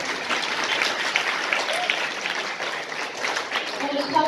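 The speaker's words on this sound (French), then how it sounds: "Je demanderai juste d'applaudir aussi, comme il se doit" An audience at a regional Injaz Al Maghrib competition in Tangier applauds steadily and loudly throughout, with a voice faintly audible beneath the clapping.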